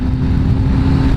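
A high-powered liter-class sportbike engine drones loud and close, a steady low roar with a sustained hum through the whole stretch as the rider picks up speed.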